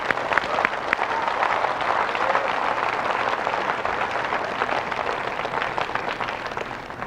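Steady, dense applause from an audience fills the whole stretch, a continuous wash of clapping at even loudness with no voices over it.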